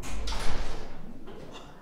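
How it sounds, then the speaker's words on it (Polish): Elevator doors slide open in a Roblox game, a loud rumbling whoosh with a thud at the start and a second softer slide toward the end. "ta winda jest awaryjna i ona czasami otwiera drzwi pomiędzy piętrami"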